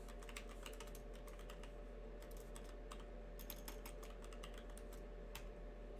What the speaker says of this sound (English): Get to see my horrible typing.